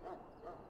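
A dog in the Dragon Age: Origins video game gives two short, low bow-wow barks in quick succession, fairly faint and brief.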